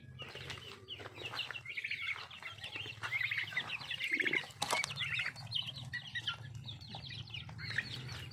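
Chickens, including Bangkok chickens, clucking and squawking in a busy poultry pen shared with turkeys and Muscovy ducks, with brief wing flapping and a low hum underneath.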